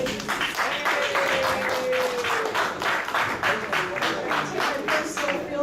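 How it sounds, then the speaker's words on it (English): Audience applause fills the room at a post-fight boxing press conference in Atlantic City, steady dense clapping throughout, with a voice speaking over it. "Give them a round of applause just for having us."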